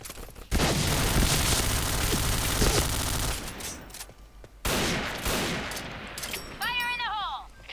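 In the video game Point Blank, a grenade blast and rapid gunfire burst loudly, fade out, then a second explosion hits, followed by scattered shots and a warbling game sound effect.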